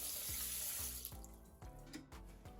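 Water running from a kitchen tap to fill a pot for cooking pasta, a steady close rushing stream with faint clinks and splashes as it fills.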